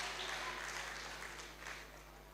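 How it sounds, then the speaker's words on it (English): Audience applause at a youth leadership debate and conference in Lagos, a steady wash of clapping from a crowd that slowly fades slightly, with a constant low hum underneath. "you better clap properly"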